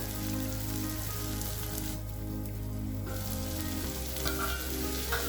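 Prawns fry in a pan for a ridge gourd prawn curry, giving a steady close sizzle with light stirring scrapes throughout, and no talk.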